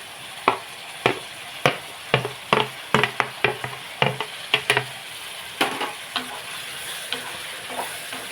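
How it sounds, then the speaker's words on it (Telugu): Tomato pieces going into a hot frying pan for a Telugu-style tomato curry, with a steady sizzle broken by a dozen or so sharp clatters and scrapes of a spoon in the first half, then quieter stirring toward the end. "టమాటాలు కూడా మనం వేసేస్తున్నాం టమాటా ముక్క కూడా వేసేస్తాం"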